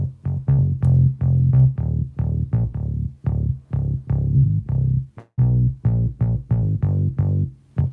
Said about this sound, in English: If you hear the bass by itself, it sounds like this.